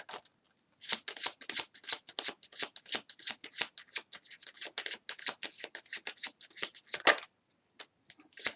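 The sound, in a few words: shuffling tarot cards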